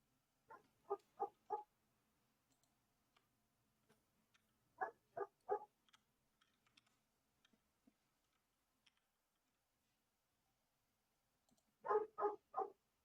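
A German Shepherd mix dog barks outdoors in bursts of three to four sharp barks, with quiet gaps of faint clicks between the groups.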